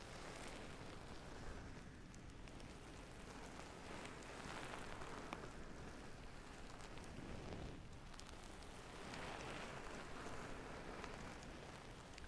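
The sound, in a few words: rain on rooftops, ASMR trigger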